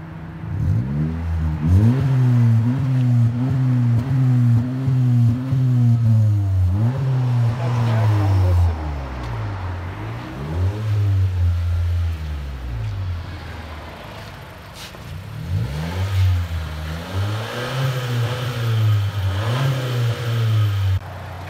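A 2016 Honda Civic Si hatchback with a 1.5L engine and muffler-delete dual exhaust revs repeatedly, loud and close, in rising and falling blips with a raspy drone between throttle stabs, while voices talk now and then.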